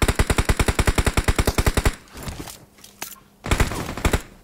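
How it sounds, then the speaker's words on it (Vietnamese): Automatic gunfire from a shooting video game: a loud, rapid, evenly spaced burst is followed by a pause with scattered shots, then another loud burst of fire. "Ui dồi, bên này có tiếng súng."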